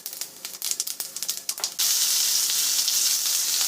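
Cinnamon, cloves, cumin and fennel seeds drop with quick ticking clatters into a hot kadai, then burst into a loud, steady, close hiss of sizzling oil.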